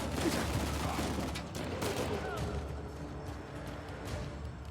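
Dense, continuous gunfire exchange in the action game Uncharted 4, with rapid overlapping shots and a busy, cluttered combat din at moderate, slightly distant level throughout.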